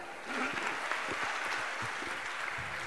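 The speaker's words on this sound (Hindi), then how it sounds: "बहुत अच्छा प्रश्न, ताली बजाइए।" An audience claps steadily at a question-and-answer gathering, a dense, even wash of applause lasting the whole few seconds, moderately loud and without speech over it.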